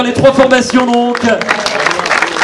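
An audience applauds the three cycling club teams at the final round of the French cup in Machecoul, with scattered clapping under someone speaking loudly into a microphone.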